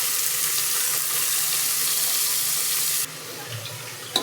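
Tomatoes tipped into a hot pan for a biryani-style pulao give a steady broadband sizzle for about three seconds, then it drops sharply to a quieter simmer with a small clink near the end; no one speaks.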